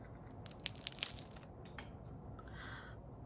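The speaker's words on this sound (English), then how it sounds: "But listen for the crunch and look at the break." Crispy fried jalebi, a syrup-soaked Guyanese sweet, snapping and crunching as it is broken apart, a cluster of sharp crackles early on over a quiet room background, then fading.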